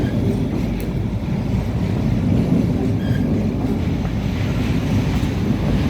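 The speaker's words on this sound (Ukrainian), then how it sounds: "потяги їздять майже на мосту" A heavy, continuous rumble of a train rolling steadily across a bridge over the Rhine in Cologne, loud throughout with buffeting wind noise.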